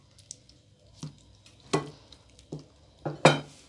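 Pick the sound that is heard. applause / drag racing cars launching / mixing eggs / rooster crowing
mixing eggs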